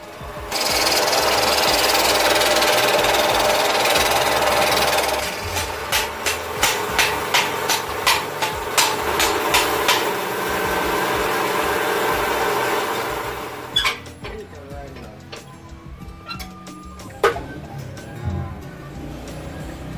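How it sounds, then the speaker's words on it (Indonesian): A lathe turns bamboo in a small bamboo workshop in Bogor, first a loud steady whirring, then a run of rhythmic tapping pulses, then quieter scattered knocks and handling sounds. "Setelah tadi udah jadi, baru kita masukin ke mesin bubut untuk dibubut."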